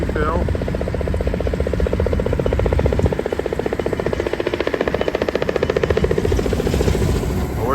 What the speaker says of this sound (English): There's the helicopter coming in to refill.